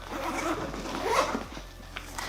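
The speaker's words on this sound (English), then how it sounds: "So I'm gonna open up the main zipper." The main zipper of a PGYTECH OneMo camera backpack pulled open in one continuous run of rasping teeth, close up, with soft rustling of fabric around it.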